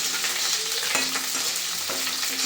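Green chillies and chunkily cut onions fry in a pan, giving a constant close sizzle broken by a few light metallic scrapes as a spatula stirs them.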